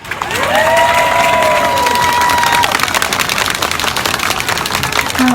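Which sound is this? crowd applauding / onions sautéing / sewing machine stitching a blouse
crowd applauding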